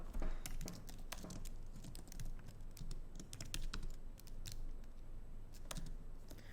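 Rapid typing on a computer keyboard in a terminal, a continuous close patter of crisp key clicks with irregular rhythm and a few louder taps, no talking.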